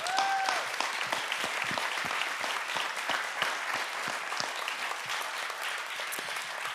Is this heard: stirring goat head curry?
no